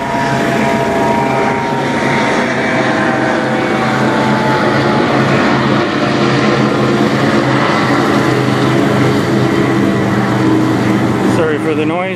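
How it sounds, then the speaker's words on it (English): A Coast Guard helicopter passes overhead beside the Great Lakes near the Blue Water Bridges, its engine and rotor noise forming a loud, steady roar throughout. A large bulk carrier is on the water nearby. "Helicopter flying over."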